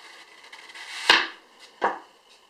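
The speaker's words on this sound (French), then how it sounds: "je prends mon couteau, je coupe un petit morceau" Two sharp knife cuts through a small piece of material for a flower tree arrangement, crisp and close, about seven tenths of a second apart, over a quiet background.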